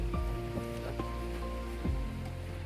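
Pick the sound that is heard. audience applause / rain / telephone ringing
rain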